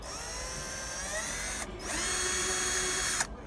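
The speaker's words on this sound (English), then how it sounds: "Now I'll grab a drill with the drill bit in and drill this through." A power drill whines at high speed, its pitch rising as it bites into a vehicle number plate, briefly stopping, then drilling again in a second continuous run.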